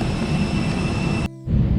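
Steady loud roar of a Wizz Air airplane engine at an airport, with a high whine on top, briefly cut off for a moment before resuming.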